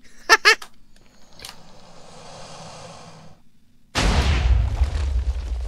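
A couple of sharp breathy snorts and a faint hiss, then a sudden loud explosive blast that rumbles on steadily until the end, in a Minecraft game.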